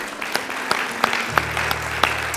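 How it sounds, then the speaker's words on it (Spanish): A church congregation applauding in praise at a worship service, with scattered, fairly sparse claps. A low sustained keyboard or organ tone enters about halfway through. "Dale un aplauso de alabanza a Jesús."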